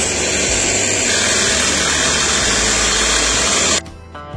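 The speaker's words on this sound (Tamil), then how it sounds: "சேர்த்துட்டு பீட்டரால நல்லா பீட் பண்ணி வச்சுக்கிறேன்." Electric hand beater whipping cream with vanilla essence and cold milk, a loud steady motor whir running continuously for almost four seconds before abruptly cutting off.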